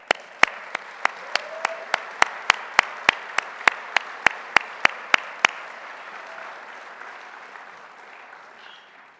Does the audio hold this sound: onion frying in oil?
no